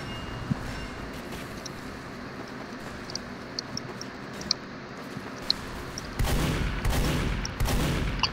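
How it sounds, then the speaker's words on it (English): Gunfire in Team Fortress 2, a steady background rattle of distant shots with a few sharper crack peaks, growing louder and denser toward the end. "now I'm just shooting at everyone that comes out through these tunnels"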